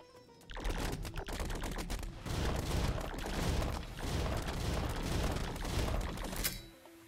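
Rapid bursts of gunfire from a light gun in a video game, loud dense shots in several waves with booming impacts, ending in a sharp final crack.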